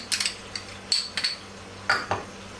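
A utensil stirs homemade burger sauce in a bowl, giving several sharp clinks and taps against the dish in an uneven rhythm, close up and with no talk.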